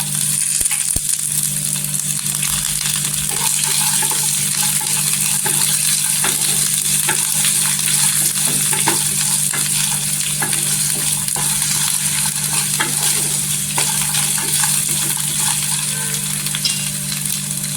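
Green chilli sizzling in a pan while varai (barnyard millet) fasting upma is cooked, a steady, loud, continuous frying hiss with faint stirring scrapes throughout and no talk.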